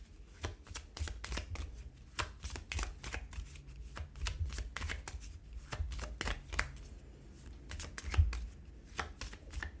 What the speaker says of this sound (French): Et on va prendre 3 cartes.